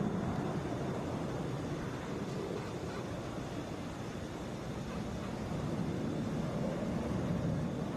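An Airbus A321 airliner arrives at Atlanta airport, heard as a faint, broad, steady jet rumble and roar from a distance, sustained for several seconds without voices.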